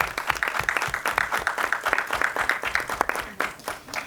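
An audience at a forum on comprehensive sex education applauds continuously, a dense, even patter of many hands clapping throughout.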